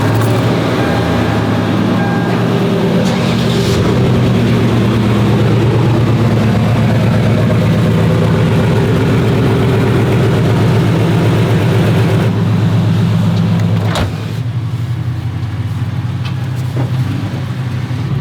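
A truck drives along a road toward a gas station, its engine making a steady, loud low rumble with road noise that continues throughout, with a brief dip near the end.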